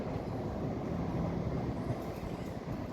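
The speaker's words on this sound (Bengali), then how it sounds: "আর দেখুন সামনে ট্রেন যাচ্ছে, আমি জুম করে দেখাই।" A train passes along the Bally railway line toward Burdwan, heard from a nearby street as a steady, fairly distant rumble that holds for a few seconds with no talking.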